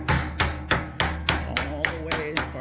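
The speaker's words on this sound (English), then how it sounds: "you're going to take your rubber mallet again" Close, steady blows of a rubber mallet on sheet metal being hammered flat for a transition, about ten sharp thuds with a metallic ring in a regular rhythm, no speech over them.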